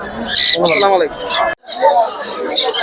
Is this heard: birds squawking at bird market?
yes